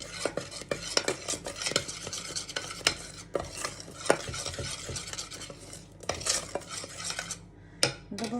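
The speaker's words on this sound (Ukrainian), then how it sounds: "Додаємо, перемішали масло." A spoon stirs melting butter in a pot for gingerbread, scraping and clinking against the metal in quick, irregular strokes, close and clear, with a faint sizzle underneath.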